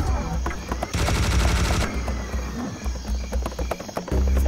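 Rapid machine gun fire from a weapon in the video game Serious Sam HD, loud and close in dense bursts, one especially heavy stretch near the start, with game sounds and music under the shooting.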